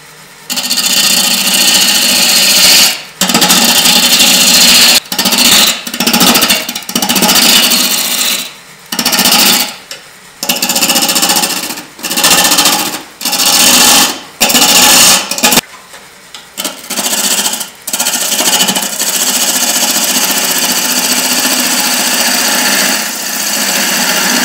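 A spindle roughing gouge cuts a spinning wooden cube on a wood lathe running near 800 RPM, a loud continuous rasping hiss broken by short gaps as the tool lifts off and reengages the wood.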